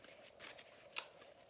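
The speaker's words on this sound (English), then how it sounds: "we're just gonna shuffle a little bit more and pull your cards" A tarot card deck being shuffled by hand: soft, continuous riffling and sliding of cards with one sharper snap midway, quiet and close.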